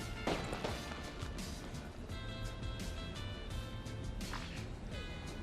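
Fireworks burst in a colony celebration in the Mars-colony building game Surviving Mars: a dense, continuous wash of crackling pops and thuds, with a sharp bang near the start and steady fizzing over a low drone of game music.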